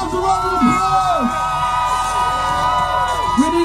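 Crowd at an anti-racist, anti-police-brutality street march during Super Bowl 2018 cheering and whooping loudly, with rising shouts and sustained noise throughout, voices yelling over the din.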